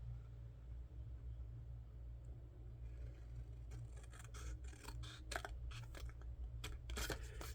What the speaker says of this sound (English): I am going to get my little scissors, my micro tip scissors.